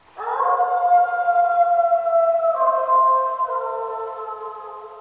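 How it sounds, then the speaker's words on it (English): A single timber wolf howls in a long, sustained, mournful tone that shifts pitch in steps, loud and clear with no other sounds. "This is a timber wolf howling."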